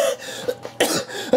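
Several harsh, close coughs from a persistent weeks-long cough in quick succession, a short break, then a louder burst of coughing and a final sharp cough.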